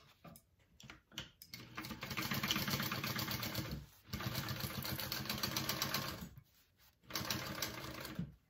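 A sewing machine stitches a seam on a crossbody wallet, running in a fast steady chatter for a few seconds, pausing briefly, then resuming, with short stop-start bursts at the beginning.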